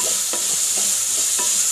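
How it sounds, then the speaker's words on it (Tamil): Onions sizzle steadily in a hot pan while a utensil scrapes and stirs in a few irregular strokes, close up with no talking. "நல்லா வதக்கி விடுவோம், கலக்கி விடுவோம்."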